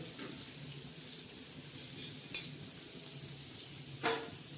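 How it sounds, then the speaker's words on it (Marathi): Bangda mackerel shallow frying in oil in a pan, a soft steady sizzle with a few faint clinks and scrapes. "खमंग अशी खरपूस मच्छी आपल्या आता तयार होत आहे आपण तळत आहे"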